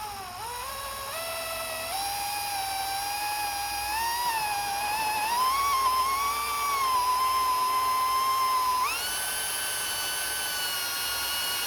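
A hole cutter in a power drill bores through a copper boiler disc clamped on two wooden blocks, giving a close, steady whine whose pitch wavers and then rises for about twelve seconds, with no talking.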